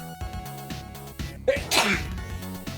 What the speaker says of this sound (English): sorry, I'm sneezing